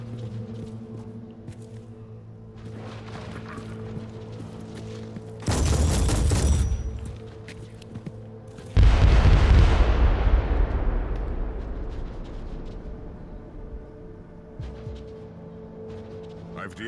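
Mortar blasts in a Warhammer 40k video game: a loud boom followed by a big explosion that rumbles and fades over several seconds, with game sounds and some talking around it.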